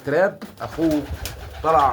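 Homing pigeons coo in low, rolling throaty calls, three bursts close by, with a faint background murmur between them.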